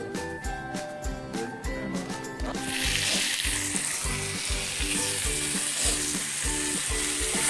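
Onion fries in a pan for Goan chicken xacuti: a loud, steady sizzle starts a few seconds in and then runs continuously, with rhythmic music playing underneath the whole time.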